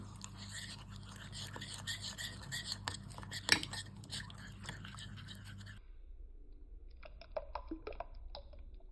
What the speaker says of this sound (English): Then I'm going to mix all together.